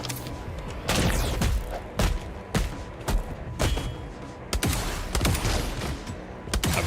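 Gunners firing weapons in the video game Replaced, a series of loud sharp bursts and thudding shots in irregular rhythm, about a dozen distinct blasts with brief gaps between them.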